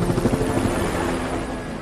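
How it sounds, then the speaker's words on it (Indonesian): A video game helicopter arriving at an extraction point to drop off two mercenaries, its rotor thudding loudly and steadily up close with a constant engine whine. "muncullah sebuah helikopter yang menurunkan dua tentara bayaran"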